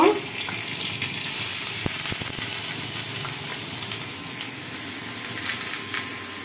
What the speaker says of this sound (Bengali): চালটা একটু ভেজে নিব